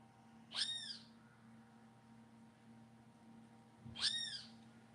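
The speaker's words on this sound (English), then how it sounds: "Shut up, you damn bird." A bird calls twice in the background, two short bright chirping bursts about three and a half seconds apart, faint over a low steady indoor hum.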